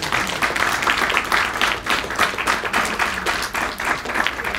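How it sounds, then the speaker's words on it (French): An audience applauds a speaker introduced as a teacher and CEO of Pro Carrière Conseil, dense and loud clapping sustained evenly throughout with no voices over it. "On l'applaudit s'il vous plaît."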